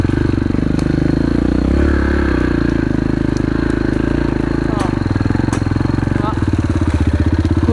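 A Yamaha TT-R dirt bike rides off-road, its engine droning loud and steady close up with rattling and scraping, and a rougher pulsing chatter near the end.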